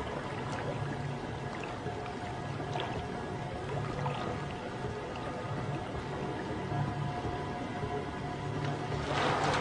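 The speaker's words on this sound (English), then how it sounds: "water begins to pour out onto the floor" Water from a magician's escape chamber pours and splashes steadily onto the floor, a continuous rushing spill with no voices.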